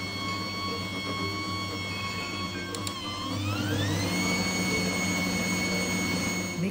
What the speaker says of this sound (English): Beat in 3 egg yolks, one at a time.